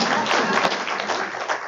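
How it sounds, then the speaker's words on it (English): Audience applause at a collaboration talk, a dense wash of clapping filling the brief moment without any clear voice. "Let's give him a big round of applause."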